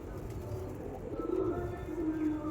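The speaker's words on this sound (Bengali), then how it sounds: "পিওর মঙ্গলাগিরি লাইনের পায়রা আছে" Andhra Mangalagiri pigeons kept as a sale pair coo softly and repeatedly close by, low rolling calls over faint background noise.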